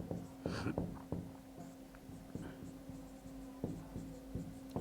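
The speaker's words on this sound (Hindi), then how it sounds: "अब यहां पर नोट डाल के लिख लेता हूं" A note being written by hand during a plane table survey lesson, with soft scratching strokes and taps in short bursts, close and fairly quiet with no talk over it.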